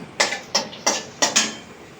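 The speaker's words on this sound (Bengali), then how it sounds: "একটু নেড়ে চেড়ে" Dried red chilies broken in half are stirred in hot oil in a pot, five or six sharp scraping knocks of a utensil against the pot at an uneven pace, close and loud.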